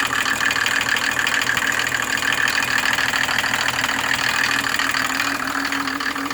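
A Mercedes OM603 turbo diesel engine drives a new PN-40 motor pump, running steadily and close by with a continuous rumbling idle and a faint knocking texture, no voices over it.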